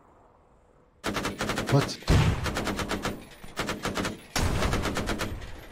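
Automatic gunfire from the Arma 3 military video game rattles in several loud, rapid bursts separated by short pauses, with a voice briefly speaking between them.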